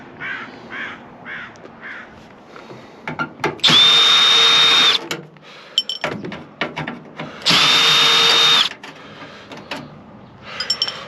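A power drill backs screws out of a scrap microwave being dismantled, two loud sustained whirring runs of about a second each, close up, separated by clicks, clanks and handling of metal parts.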